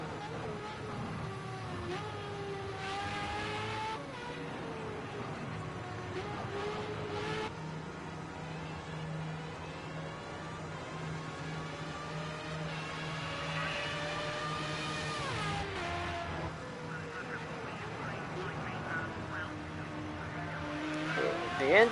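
Formula A race car engines in Project Cars 2 at the Red Bull Ring, a steady whining drone that rises and falls in pitch, fairly faint and continuous throughout.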